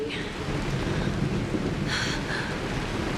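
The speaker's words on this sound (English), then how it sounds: "It is raining." Rain and thunder in the Honkai Star Rail game on mobile, a steady hiss of rainfall with a low rumbling roll beneath it and a few brighter splashy bursts.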